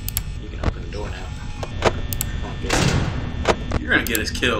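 A door in Five Nights at Freddy's video game opens with a sharp mechanical thump and slide, surrounded by other clanks and thuds while people talk over the game.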